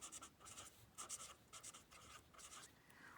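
Pen scratching across paper in short rhythmic bursts of writing, close and fairly quiet, with brief pauses between strokes and no voices.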